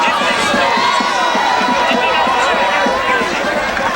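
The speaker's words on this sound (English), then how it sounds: "He gets a nice round of applause as well." A stadium crowd applauds an injured player at the 1999 Glassboro vs. Florence high school football South Jersey Group 1 final, producing a steady wash of clapping and crowd noise with voices over it.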